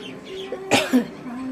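A single short, sharp cough close by, set against a quiet indoor background with faint tonal sounds.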